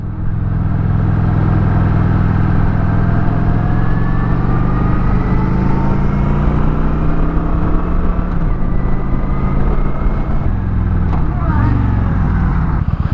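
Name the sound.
Kawasaki Vulcan 900 Classic motorcycle riding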